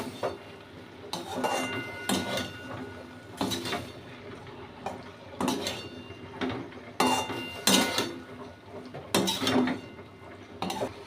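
Okra and poppy seed paste being stirred in a pan without oil, with repeated scraping and clinking of a utensil against the pan in irregular bursts, fairly close and with no talking.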